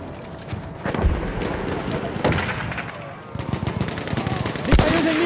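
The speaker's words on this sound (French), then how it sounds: "Mitrailleuse ennemie, par là!" Enemy machine gun fire crackles during a night Conquest match on Nivelle Nights in Battlefield 1, with repeated sharp bursts of gunfire over a dense, rumbling battlefield ambience.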